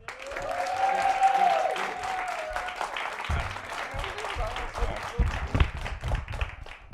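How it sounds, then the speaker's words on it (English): Comedy-show audience on a Chicago stand-up program applauds a comedian, a building wave of clapping with a few whoops and a brief voice, tapering into scattered claps. "a big round of applause for the very funny Tim Smith"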